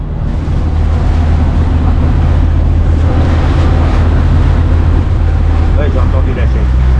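A sailing boat's engine drones low and steady as the throttle is opened, under loud wind and water rush, while people talk over it.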